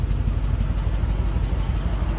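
A 1957 DeSoto hot rod engine rumbles through side pipes, a steady loud low-pitched exhaust burble at idle, heard up close with no talk.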